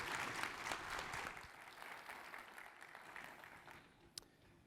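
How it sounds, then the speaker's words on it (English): A conference audience at a space congress opening session gives a round of applause: sustained dense clapping from many hands that slowly thins and fades, ending with a few scattered claps. "Please join me in a round of applause."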